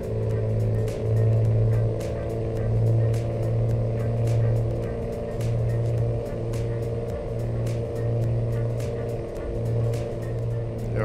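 Truck driving in American Truck Simulator, a steady low engine drone with a repeating hum and regular faint ticking clicks throughout, fairly quiet and without speech.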